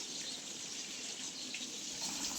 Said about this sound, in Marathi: आता प्यायचं पाणी भरून घेते